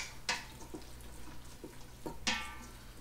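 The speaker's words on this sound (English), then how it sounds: "Go ahead and add that and stir it in real quick." Sazon seasoning being stirred into arroz con gandules in an Instant Pot, with a few soft scraping strokes and two sharper spoon clacks against the pot, quiet and close with no talking.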